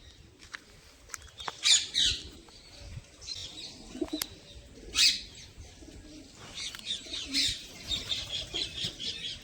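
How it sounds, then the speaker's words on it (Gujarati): Pigeons and parrots call and chirp at Sukhbhadar Dam through a steady outdoor background, with pigeon coos and sharper parrot squawks breaking out at intervals. "ખરેખર અહીં કબૂતર અને પોપટ અહીં ઘણા જ સંખ્યામાં જોવા મળે છે"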